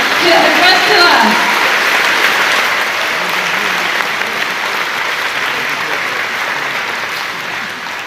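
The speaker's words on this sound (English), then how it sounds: "Let's give a biggest round of applause and welcome Her Excellency Tsai Ing-wen, President of Taiwan, to address to us." Sustained audience applause welcoming the President of Taiwan at a European Day dinner, a steady dense wash of clapping across the whole stretch that eases slightly near the end, with a brief voice at the start.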